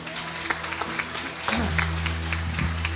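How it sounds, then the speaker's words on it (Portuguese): Church congregation clapping at an anniversary service, scattered sharp claps over a low sustained organ or keyboard tone that enters midway, moderately distant and fairly soft. "Se você acredita, dá um aplauso ao Senhor."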